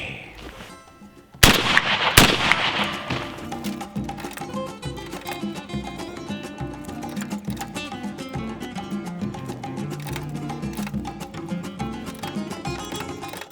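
A shotgun fired with a reloaded Remington American hull, one sharp loud blast near the start followed by a long ringing, echoing tail with scattered clicks and knocks, no talking.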